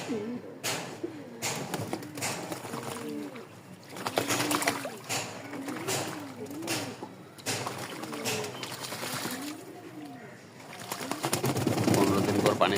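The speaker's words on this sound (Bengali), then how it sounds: "পানি পায়ে মোটামুটি গোসল করতেছে এরা অনেকে" Several domestic pigeons bathe in water, splashing and fluttering with scattered wet slaps while soft repeated coos carry through. The splashing builds toward the end, and a voice talks faintly in the background.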